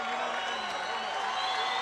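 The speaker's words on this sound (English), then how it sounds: "big round of applause to McCrory from the Belfast crowd" A Belfast boxing crowd applauds and cheers for Padraig McCrory after his bout with Steed Woodall, a loud, unbroken roar of clapping and crowd noise in a large arena.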